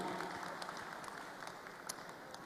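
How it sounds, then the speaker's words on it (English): Steady, fairly faint applause from a conference audience at a live plenary session, a continuous wash of clapping from start to end with no talk over it. "please join us to have and give a big applause to Professor Rohainuddin Hayatin."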